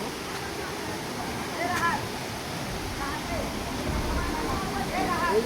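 A waterfall in the Khagrachari hills pours steadily throughout, a broad rushing wash of water running close and constant while people talk over it.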